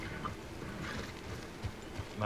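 Faint, steady clip-clop of horse hooves trotting in the video game Red Dead Redemption 2, soft and muffled, with a few slightly louder thumps toward the end.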